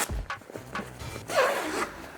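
A jacket zipper is tugged in a few short scraping pulls, ending in one longer, louder zip close by.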